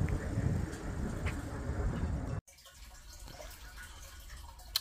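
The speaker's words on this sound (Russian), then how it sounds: "Слышите, как булькает аквариум, как сливной бачок? Это фильтр." An aquarium filter keeps up a steady bubbling, gurgling water noise, much like a draining toilet cistern. The sound is close and continuous, drops out briefly midway, then returns more softly.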